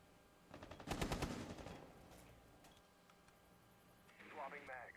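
Rainbow Six Siege gunfire comes as a rapid automatic burst of shots at close range, followed by a few scattered faint pops and clicks, with a broadcaster's voice commenting over the match.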